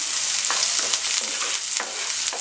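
Kale curry sautés in a pan with salt and dried chillies, giving a constant loud hiss of frying with light stirring scrapes throughout and no talking.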